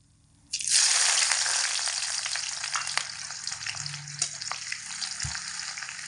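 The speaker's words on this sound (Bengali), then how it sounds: "পেঁয়াজটা খুব বেশি ভাজা ভাজা করব না হালকা একটু ভেজে নেব" Coarsely chopped onion goes into hot oil with black cumin and a bay leaf for a vegetable dish. It hits with a sudden loud sizzle, then settles into steady crackling frying with light stirring scrapes.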